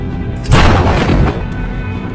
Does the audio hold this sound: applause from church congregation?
no